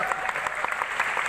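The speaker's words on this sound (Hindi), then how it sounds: "इनके लिए जोरदार तालियां बजाओ।" A seated audience at a wellness company's business event in Jaipur claps loudly and steadily, a dense sustained burst of applause with no voices over it.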